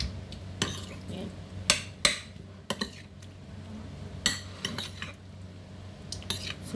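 Broccoli and squid being stir-fried in a pan, with a utensil clinking and scraping against the metal in irregular close bursts over a low kitchen background.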